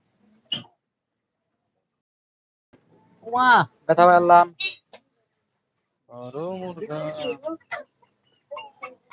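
Chickens at a poultry seller's stall give a few clucking, crowing calls in short bursts, with people talking nearby.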